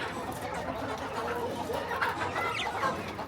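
Desi hens cluck and chatter together nearby in a continuous, busy stream of short calls, with a voice speaking faintly alongside them.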